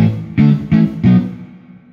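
An electric guitar through a Gibson Ranger amp on its tremolo-and-reverb channel strikes three chords in a row, each ringing out, with a reverb tail trailing off at the end.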